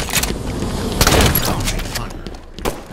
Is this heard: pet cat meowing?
no